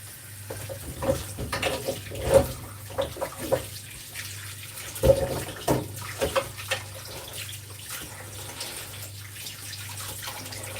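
Organic potatoes are washed under a running kitchen tap, with water splashing and clattering in bursts over a steady flowing hiss, close and fairly loud, with no talking.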